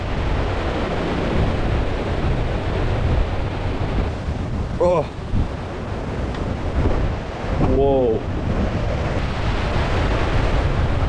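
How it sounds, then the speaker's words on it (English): Hurricane Ian's wind and surf roar over the Florida coast in a dense, continuous rush that stays loud throughout, with a person exclaiming briefly twice. "The biggest bands of wind for our area are coming in."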